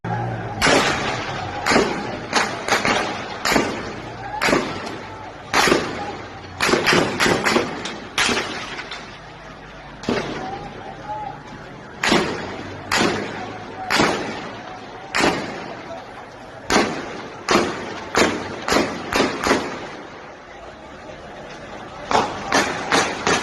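Repeated sharp thuds and cracks from stones thrown by protesters during a clash with government forces in Lahore, arriving in irregular bursts, some close and loud, amid shouting voices.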